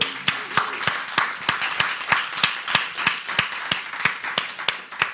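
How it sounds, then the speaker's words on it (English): A church congregation claps in a steady, rhythmic beat, each clap crisp and evenly spaced, moderately loud and close, continuing without talking throughout. "Give her a round of applause"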